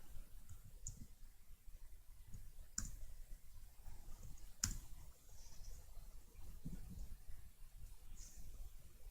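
Typing on a computer keyboard during a live coin auction: scattered quiet clicks with a couple of sharper taps, over a low background rumble and no speech.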